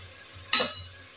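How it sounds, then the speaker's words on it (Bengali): A short burst of sizzle as red lentils hit hot oil with turmeric and chili powder, flaring loud for a moment then fading over a steady low hum. "এখন ডালগুলো আমি একটু হলুদ মরিচের সাথে ভেজে নেব।"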